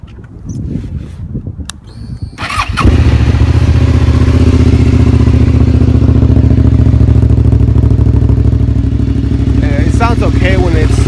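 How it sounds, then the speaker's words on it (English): A Suzuki SV650 motorcycle fitted with an M4 exhaust cranks and fires up after a few quiet seconds of handling, then settles into a loud, steady, close-up idle rumble that fills the rest of the clip. "It's got a M4 exhaust, which sounds pretty good. Let me turn it on here."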